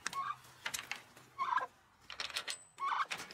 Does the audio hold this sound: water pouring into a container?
no